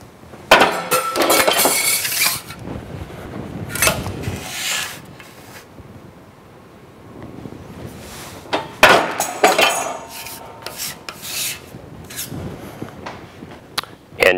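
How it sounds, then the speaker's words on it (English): A squaring shear cuts down a piece of sheet metal, leaving a sharp metallic clunk and clatter in several bursts with quieter handling between them, close by and loud. "using the squaring shear, I will cut that down to size."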